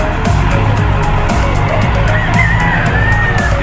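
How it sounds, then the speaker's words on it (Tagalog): A truck pulls out after an early-morning loading job, its engine droning low and steady with a brief squealing whine rising over the rumble. "Yan, palabas na yung truck namin."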